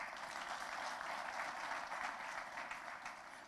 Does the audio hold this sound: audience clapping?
yes